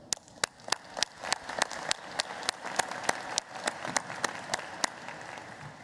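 Commencement audience applause for staff at a nursing and health sciences graduation ceremony: sparse, distinct claps from a thin crowd, fairly faint and somewhat distant, with louder single hand claps rhythmically punctuating the wash throughout.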